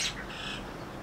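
A single bird lets out a short, harsh squawk close by, followed by a faint trailing call against a quiet background.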